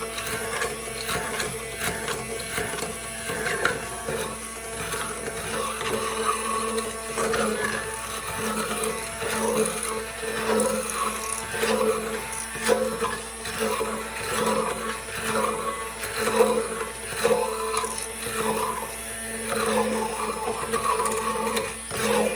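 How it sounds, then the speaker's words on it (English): A handheld mixer blends salad ingredients in a home kitchen, giving a steady, loud motor whir that runs without pause for the whole stretch, with no talking. "even with the handheld mixer, it's hard. It's blending better"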